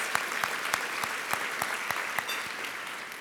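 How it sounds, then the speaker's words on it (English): Audience applause for students at a summer program closing ceremony, a full crowd clapping steadily, with a few sharper, louder claps standing out at regular intervals over the wash. "Can we give them a round of applause?"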